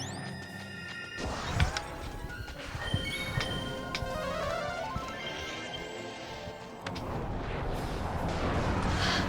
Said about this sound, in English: Ken is over here dropping bombs on this poor guy.